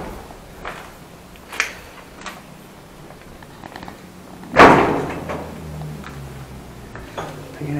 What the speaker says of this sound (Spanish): Hay una puerta que se abrió sola o se cerró sola.